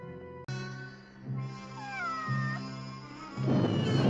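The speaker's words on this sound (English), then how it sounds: "We see a cat." A cat meows with rising and falling drawn-out calls over a steady tonal background hum, moderately loud and close, with no talking.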